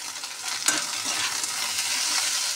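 Boiled leafy greens sizzle steadily in a frying pan for shak bhaja, close and constant, with a sharp utensil tap early on and soft stirring scrapes through the hiss.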